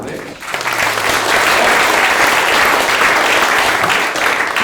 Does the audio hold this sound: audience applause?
yes